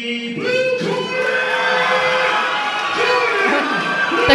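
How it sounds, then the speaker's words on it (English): A boxing crowd at an amateur fight night cheers and shouts after the judges' decision, a loud sustained roar of many voices with whoops and yells rising and falling. "The crowd goes wild."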